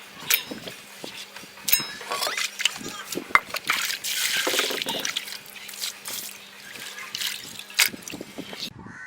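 Cleaned crab pieces are rinsed by hand in water, with continuous splashing, sloshing and trickling plus occasional light clinks of shell against a vessel, close and fairly quiet throughout.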